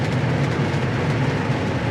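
A 1966 Chevrolet Impala convertible, still cold, rumbles steadily from its exhaust as it drives, a dense continuous low drone with broadband road and engine noise filling the cabin.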